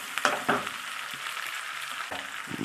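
Garlic, ten cloves, frying in a pan as the base for a dried seer fish curry, a steady broadband sizzle with a couple of louder crackling bursts near the start and stirring scrapes later, close and without talk.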